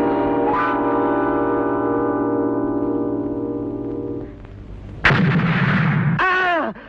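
Parcel bomb exploding in a Telugu film scene: a sustained tonal hum gives way to a sudden loud blast, followed by a sharp burst of rising, bending tones.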